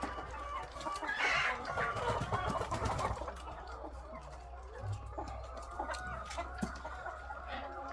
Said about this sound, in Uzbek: Andijon qora tovuqlar.